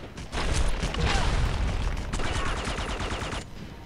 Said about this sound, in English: Am I being shot at by something flying?